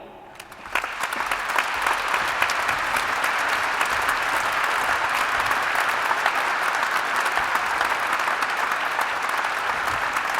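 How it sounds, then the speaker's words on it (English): An audience at the European Heritage Awards ceremony in Oslo City Hall bursts into applause for award winners, a sudden swell of many hands clapping that holds steady and loud throughout. "a very warm applause for these 4 winners in the category Education, Training and Awareness Raising"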